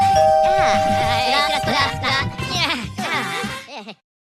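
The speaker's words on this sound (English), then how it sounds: "Someone rang the doorbell" A cartoon doorbell rings amid animated character voices that chatter over it; the sound is loud and close and cuts off abruptly near the end.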